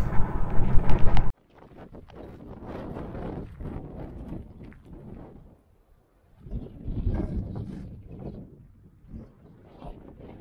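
Gusty wind on Fuerteventura in the Canary Islands buffets the microphone in loud, uneven bursts that rise and drop, with a brief lull midway.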